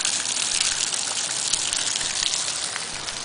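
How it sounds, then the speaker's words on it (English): A small garden water feature on Long Island splashes steadily in summer, a continuous bright gush of falling water, close and even, with no voices. "Nice little water feature."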